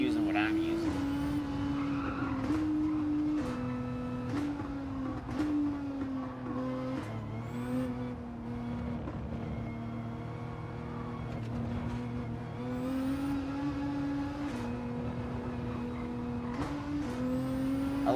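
Dark purple racing car engine drones steadily in a sim racing video game, its pitch stepping up and down with gear changes and occasional tire squeal, while someone talks over it.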